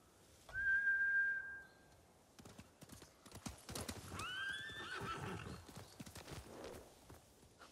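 Samurai horses in the Ghost of Tsushima video game: a high whistle-like call and a whinny ring out, followed by a stretch of quick, uneven hoofbeats at moderate distance.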